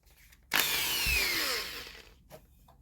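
Electric chainsaw sharpener grinding a single chain tooth: a loud, harsh, abrasive burst of about a second cuts in abruptly, then fades as the wheel winds down, followed by faint clatter.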